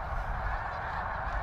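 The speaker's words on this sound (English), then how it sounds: "the Middle Creek Reservoir in northern Lancaster County spontaneously fills with snow geese" A huge winter flock of snow geese at Middle Creek Reservoir in northern Lancaster County honks at sunrise, forming a dense, continuous wall of overlapping calls from many birds, with no voices.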